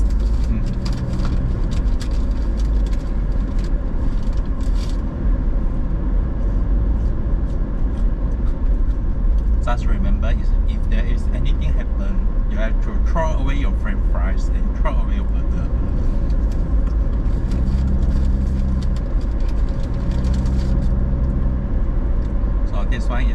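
A car driving around Kuching, Sarawak, heard from inside the cabin: a loud, continuous rumble of engine and road noise throughout, with some faint voices and small knocks now and then.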